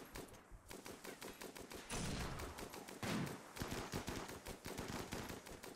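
Rapid bursts of gunfire from guns in the colony-building game RimWorld, a dense rattling stream of shots with heavier volleys swelling in the middle, loud and steady throughout with no one talking.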